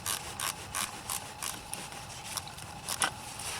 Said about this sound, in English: I'm going to go ahead and loosen my positive terminal